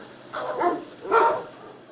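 Rescued Great Pyrenees shelter dogs at a kennel let out two short, moderately close barks or yips, each a brief harmonic burst over steady background hiss.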